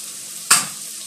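Ham and onion fry in a pan while a utensil scrapes once, a short sharp stir rising over a steady, soft sizzle.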